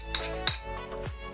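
A spoon scrapes and clinks against a pan three times in a steady rhythm while mixing spices into fried macaroni, close and fairly quiet with no talk.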